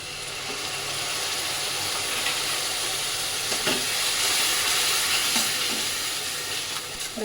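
Water splashed into frying spices (turmeric, chili, coriander powder) in a pan sets off a steady, loud steamy hiss that holds through the whole stretch, with a few faint clinks and stirring scrapes.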